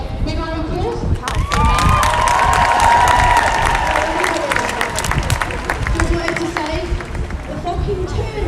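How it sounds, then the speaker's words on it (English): Crowd at an outdoor protest in a city square claps and cheers loudly, with whoops and shouting voices over continuous applause for about eight seconds. "Big round of applause."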